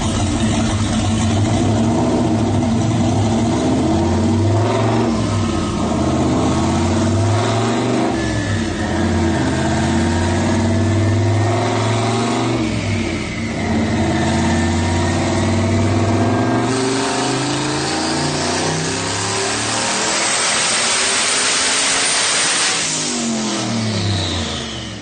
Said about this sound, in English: I'll show you the video of the dyno pull